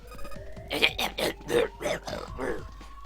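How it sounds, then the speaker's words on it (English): A female character in the video game 999: 9 Hours, 9 Persons, 9 Doors coughs hard in a rapid series of harsh, rasping bursts, with a faint tonal hum underneath. "she's coughing so hard she can't even talk"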